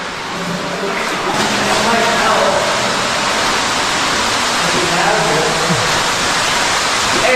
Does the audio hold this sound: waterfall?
yes